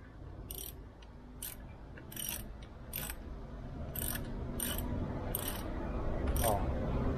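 A ratchet wrench tightens the valve cover bolts on a Vectra/Astra engine, giving a series of sharp clicking bursts in an irregular rhythm over a steady background rumble, close by.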